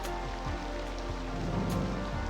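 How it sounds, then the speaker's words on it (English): Steady rain pours down in the city-building game Cities Skylines II, a dense, even hiss with a continuous close patter and no voices. "here comes the rain."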